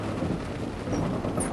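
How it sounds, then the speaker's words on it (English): Thunder from a lightning storm near the Little Missouri River rolls as a steady, dense low rumble, continuous and fairly loud throughout without any talking. "But we're also in the middle of a lightning storm."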